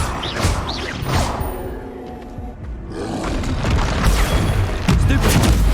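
A Confringo spell blasts off in the Hogwarts Legacy video game, a loud roaring explosion with crashing debris that swells, dips briefly and surges again amid continuous battle noise, with voices shouting over it.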